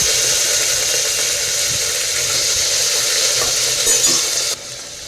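Potatoes and beans go into a hot pan with curry leaves and are stirred, a loud, even, close sizzle that hisses steadily without pause and drops slightly in level right at the end, with no talk.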